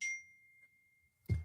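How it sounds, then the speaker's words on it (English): A phone notification ding, a single bright chime that rings out and fades over about a second, followed by a short low thump. "phone's dinging."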